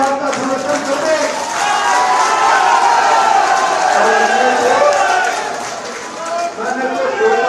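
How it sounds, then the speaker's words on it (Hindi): Supportive applause and cheering from a crowd at a political rally where a leader is joining the Congress party, a loud, dense, sustained wash of clapping and voices that dips briefly near the end. "यहाँ जितने भी लोग हैं एक बार ताली बजाकर इस बात का समर्थन कर दें।"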